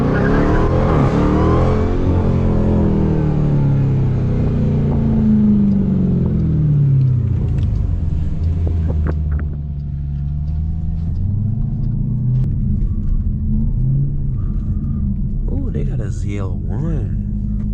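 Dodge Durango Hellcat SUV with all-wheel drive revving and accelerating hard during a performance drive, a loud continuous engine rumble that rises and falls, with people talking over it.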